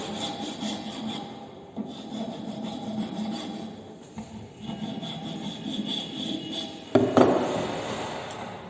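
Hand file rasping across the freshly cut end of a wooden mortise piece held in a carpentry vise, steady scraping strokes close by, with a brief louder knock near the end.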